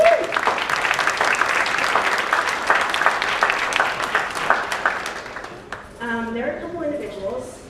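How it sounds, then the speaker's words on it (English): A crowd at a high school senior athletic awards ceremony applauds steadily for several seconds, then the clapping fades and a voice begins talking over the last of it. "So big round of applause, everybody, please."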